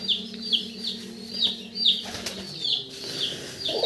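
A male pigeon at a pigeon farm beats its wings in repeated quick bursts, the close flapping recurring roughly every half second with faint background noise.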